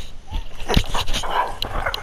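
A dog barks and whimpers close by in short, uneven bursts, with yips breaking through a busy background of game sounds during play at home.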